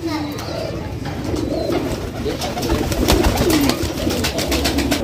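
Several Teddy and Rampuri pigeons coo in low, throaty, repeated calls close by, overlapping one another amid a busy background of fluttering and faint chatter.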